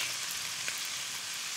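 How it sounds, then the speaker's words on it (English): Whole cumin seeds hitting hot oil in a pan, a loud, dense, steady sizzle with crackling pops close to the microphone, heard alone without talk. "I'm gonna throw this in the oil, let it sizzle."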